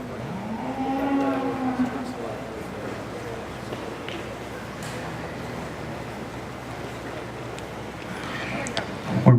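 Red Poll cattle lowing at a breed show, with a few moos near the start amid a busy hall murmur, while an announcer talks over the scene.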